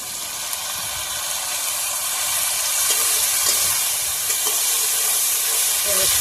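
Rohu fish entrails frying in a pan with onions, a loud, steady hissing sizzle up close with occasional faint clinks of stirring.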